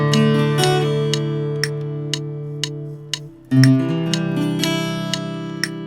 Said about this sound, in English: what I have here are 4 different takes of the same guitar piece